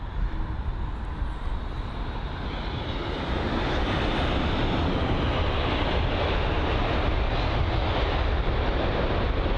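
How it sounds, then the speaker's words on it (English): A steady, fairly distant broadband jet rumble from an Air China Boeing 777 airliner at London Heathrow swells slightly and then holds constant, with no talking. "Oh no, it's just Air China with the Boeing 777."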